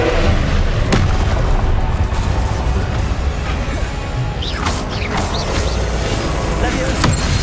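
Confringo blasting spell explosions in Hogwarts Legacy, loud booming blasts over a dense rumbling game soundscape, with sharp impacts and whooshing tails, continuous and heavy throughout.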